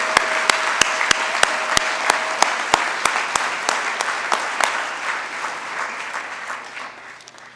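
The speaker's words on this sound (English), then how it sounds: "Let's give one more round of applause for our 2018 Hall of Fame inductees." A banquet crowd applauds the 2018 Mt. SAC Athletics Hall of Fame inductees, with steady clapping that holds strong, then gradually thins and fades, while a few sharp, close claps punctuate it.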